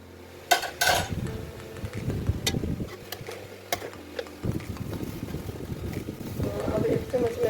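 Finely chopped washed onions stirred in a bowl, with light scraping and clinking of a spoon against the dish, a few sharp knocks, soft and close.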